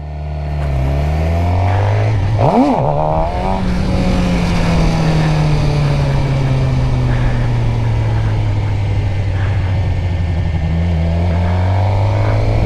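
A stock Suzuki GSX-R 600 motorcycle rides loops nearby, its engine loud and continuous, with the pitch rising and falling as the rider works the throttle and briefly revs hard.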